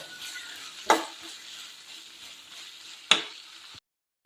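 Chili powder frying in oil gives a soft, continuous sizzle close by, broken twice by sharp clinks of a spoon against the pan before it cuts off.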